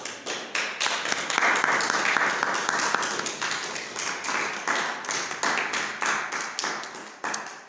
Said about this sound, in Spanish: Fuerte aplauso a nuestro Señor Jesucristo.